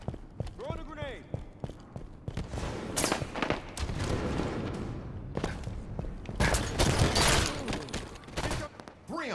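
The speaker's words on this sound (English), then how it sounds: "Throwing a grenade." Grenade blasts and gunfire from a Halo 5 match: a chaotic run of booming impacts and shots close by, with people talking over the fighting.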